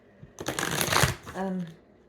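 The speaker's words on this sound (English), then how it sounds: "I thought I had my deck backwards. Let's just shuffle that." A deck of cards is riffled and shuffled once up close, a loud papery flutter lasting about a second that ends in a brief ripple as the cards settle.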